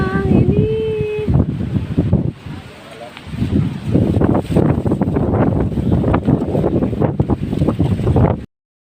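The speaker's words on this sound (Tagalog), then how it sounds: "Lakas ng hangin po sa labas" Strong wind blows outdoors and buffets the microphone in loud, uneven gusts and rumbles, with people talking at times under the roar.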